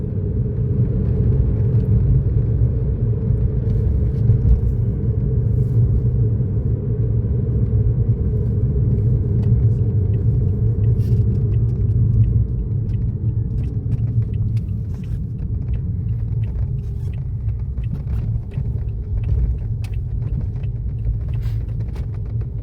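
Toyota Vitz hybrid car running on its combustion engine while driving, a steady low engine rumble and road drone heard from inside the cabin, slightly easing in the second half.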